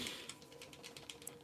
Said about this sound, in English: I'm just madly spam clicking everything